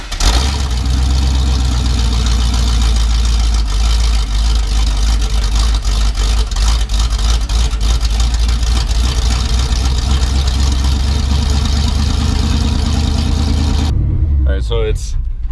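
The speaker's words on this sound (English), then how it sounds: "So I guess I'll do a cold start now." A car engine starts in a blizzard and settles into a loud, steady cold idle for a long stretch, then cuts out abruptly near the end, leaving brief quieter sounds.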